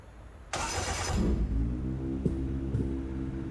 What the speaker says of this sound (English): That's a very tuned engine.